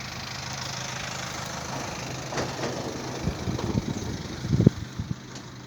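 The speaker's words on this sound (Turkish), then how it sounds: "Tam çekim anında da bir traktör geçti." A tractor passes on a mountain road in the Muğla hills, its engine a low rumble that grows and turns into uneven knocking and clattering near the end, heard from a distance amid outdoor ambience.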